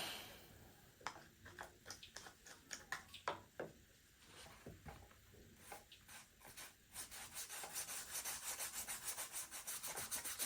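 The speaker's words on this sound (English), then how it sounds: "I'm just going to scrub with the soap" Sneaker being scrubbed with soap, a run of close rubbing strokes that starts irregular and quickens into a steady, fast back-and-forth brushing toward the end.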